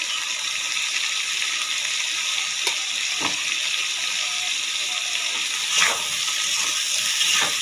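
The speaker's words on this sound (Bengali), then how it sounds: "বেগুনটাকে ভালোভাবে ভেজে নিলাম।" Eggplant fries in a pan with turmeric and salt, giving a steady hiss and sizzle with a few stirring scrapes and clinks along the way.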